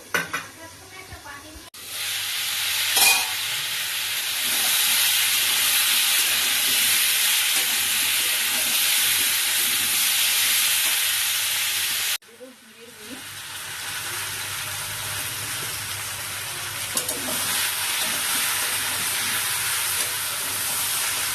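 Spinach frying in a covered pan, a broad, steady sizzle and hiss lasting several seconds, briefly cutting out midway before resuming with stirring and clatter underneath.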